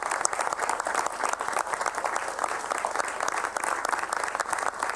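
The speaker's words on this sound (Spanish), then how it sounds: "para quienes pido un fuerte aplauso" Audience applause at an Argentine congressional sports committee session on ENARD funding, honoring medal-winning athletes: steady, dense clapping from a roomful of people, holding at an even level throughout with no talk over it.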